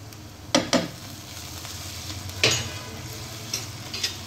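Garlic ginger paste frying in a pan, with a steady sizzle beneath a few sharp scrapes and clinks of a stirring spoon against the pan, close and fairly loud, with no talk.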